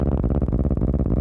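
A buzzing Roland TB-303 synthesizer tone with a rapid, fluttering pulse, imitating a cat's purr; steady and fairly loud throughout.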